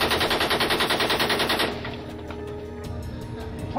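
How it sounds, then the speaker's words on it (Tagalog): M60 machine gun firing rounds in a rapid, loud sustained burst for over a second, then echoing rumble and scattered faint reports as the fire trails off. "nagpakawala rin sila ng 180 rounds mula sa kanilang M60 machine gun"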